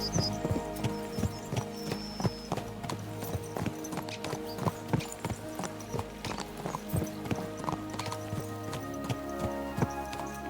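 Horses' hooves in the medieval video game Kingdom Come Deliverance II, a brisk, continuous clip-clop rhythm of several animals up close, along with faint jangling tack and mechanical clinks.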